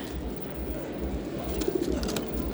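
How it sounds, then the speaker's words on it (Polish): Pigeons at a pigeon show coo softly and repeatedly amid steady low hall murmur, with a brief cluster of clearer calls toward the end. "gołąbki wiadomo wypoczywają"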